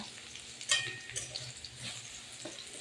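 Garlic sizzling in hot oil in a pan, tempered for jute greens (pat shak), a steady broadband crackle with a few sharper clinks of a utensil against the pan.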